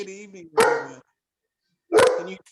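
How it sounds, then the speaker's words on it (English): A dog barks sharply twice, about a second and a half apart, close and loud over a remote public comment during a school district board meeting, with a person speaking a greeting around the barks. "I just heard you getting chased by a dog."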